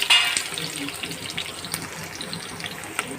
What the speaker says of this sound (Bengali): সেই পেঁয়াজটাকে আমরা ভেজে নেব